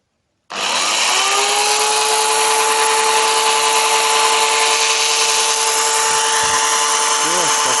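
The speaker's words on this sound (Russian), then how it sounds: "Вот как работает пила" An Interskol PTs-16/2000T electric chainsaw cutting wood starts abruptly and keeps a loud, steady whine with a constant high tone throughout, running alone without talk.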